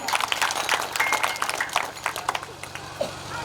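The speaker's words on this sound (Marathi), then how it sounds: "टाळी वाजवा" An audience claps along at a devotional Vitthal bhajan gathering, a dense and steady patter of many hands that keeps going for the whole stretch at moderate loudness.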